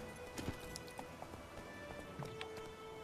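Horse hooves of Roach clip-clopping in The Witcher 3 game, a few light irregular steps at moderate distance over a steady background ambience and faint game sounds.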